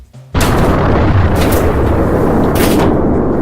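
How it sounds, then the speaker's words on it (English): Movie explosion erupts suddenly after a brief quiet moment, a loud sustained blast with rolling booms and repeated bursts of debris. "Even this had an explosion, I bet you, in the movie."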